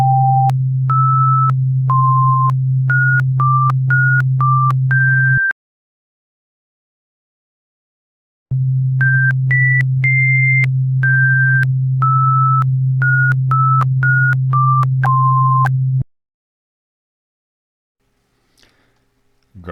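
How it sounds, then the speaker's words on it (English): Two melody sequences synthesized as pure tones at partial frequencies, each a run of short steady beeping notes stepping up and down over a constant low hum, separated by a silent gap, loud and clean. "Listen to the two sequences again as composed of pure tones with the partials frequencies."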